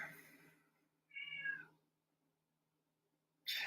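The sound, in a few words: cat meowing, upset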